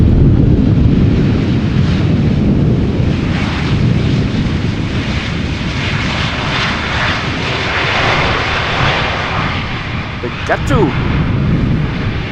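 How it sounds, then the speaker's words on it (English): A British Airways airliner arriving from London Gatwick touches down in gusty crosswind, its engines roaring loud and steady throughout over heavy wind buffeting the microphone. "Speedbird Flight 2540 touching down after coming here from London Gatwick."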